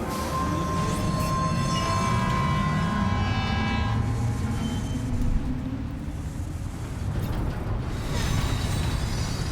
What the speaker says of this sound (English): The monorail bound for station will be sent on its way.